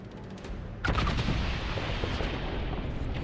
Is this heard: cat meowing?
no